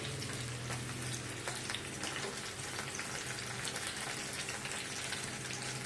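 Steady crackling sizzle of food frying in hot oil, close and continuous, with no voices.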